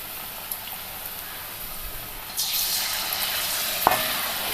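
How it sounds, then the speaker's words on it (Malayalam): Egg bonda, eggs dipped in batter, dropped into hot oil: a faint background hiss swells into a loud, bright, steady frying sizzle partway through, with a sharp clink near the end. "നമുക്ക് ചൂടായ എണ്ണയിലേക്ക് ഇട്ട് കൊടുക്കാം."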